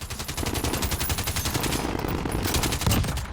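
M91 light machine gun in the Modern Warfare video game fires a long, dense sustained burst of rapid, evenly spaced shots, loud and close, continuous for several seconds with a slight rise near the end.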